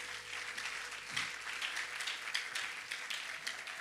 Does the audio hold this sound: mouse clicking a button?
no